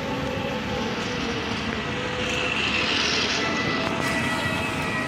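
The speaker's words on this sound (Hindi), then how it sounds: "ये देखिए हमारा हवाई जहाज जा रहा है" A passenger airplane passes overhead above a busy market street in Danapur, Patna, its steady broadband engine roar swelling slightly in the middle of the pass and holding throughout, with traffic and street bustle underneath and no talk.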